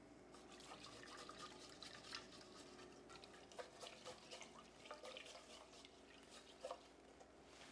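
Water added to rice grains in a pot and mixed by hand, a soft continuous wet swishing with small splashes and drips, close and quiet, no voices.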